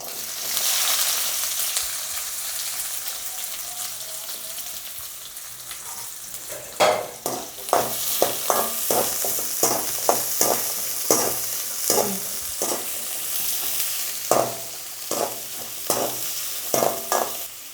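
Twenty small onions sautéing in hot oil with fenugreek seeds, a soft hiss at first, then a long series of regular, close spatula scrapes and taps against the pan over continuous frying sizzle.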